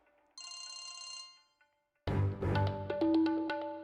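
A telephone rings with a bright electronic trill that sounds, pauses, and then gives way to a louder, busier ringtone melody, close and clear with no talking over it.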